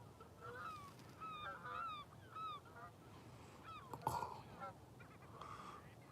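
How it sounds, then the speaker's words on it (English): Several geese honk in a loose, rising series as they fly in over an open evening setting, the calls moderately distant and repeated in overlapping bursts against steady background noise. "Got a few geese coming in."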